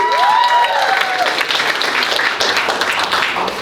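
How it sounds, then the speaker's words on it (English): An audience gives a round of applause at a school awards ceremony. Dense, sustained clapping fills the room, and brief tonal sounds ring out near the start. "So big round of applause for them."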